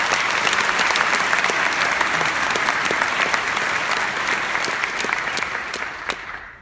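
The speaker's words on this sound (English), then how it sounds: "let's give him a round of applause" Sustained applause from a large audience at the UMS-Wright 2015 graduation ceremony, honouring Mr. Cooper: dense, even clapping holds steady for several seconds, then thins and fades out at the end.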